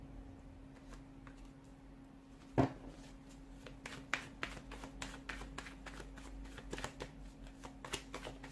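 Tarot cards being shuffled by hand, soft quiet riffling with a sharp snap early on, then a run of light ticking card flicks over a steady low hum.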